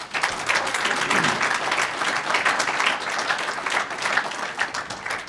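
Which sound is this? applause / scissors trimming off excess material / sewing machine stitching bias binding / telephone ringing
applause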